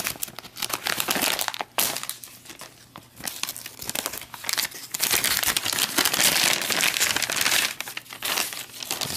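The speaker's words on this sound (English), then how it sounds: "Going to tear the top off the bag." Plastic packaging of an XMRE ration pouch is torn and crinkled open at the top, a loud close run of crackling rips and crumpling lasting several seconds with brief pauses.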